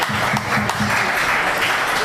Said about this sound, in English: clap it up for Casey Simonds